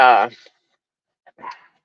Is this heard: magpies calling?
no